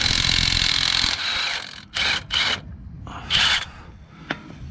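Bolts being worked loose on the front driveshaft of a Jeep Wrangler JK, with rasping, ratcheting metal bursts in short separated spurts over a steady background hum.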